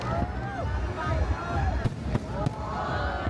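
New Year countdown fireworks display at Mall of Asia in the Philippines crackles and booms continuously, with a few sharp bursts standing out over a large crowd's babble and cheering.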